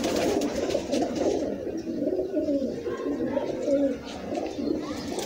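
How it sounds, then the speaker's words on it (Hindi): Several Lahori pigeons coo continuously nearby, soft overlapping throaty calls with a bit of faint background noise and no talking. "ऐ सुपर क्लास दे कबूतर ने"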